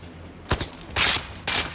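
Gunfire in the Zero Caliber: Reloaded VR shooter, heard as three short bursts of loud, close shots separated by brief pauses, with no talking over them.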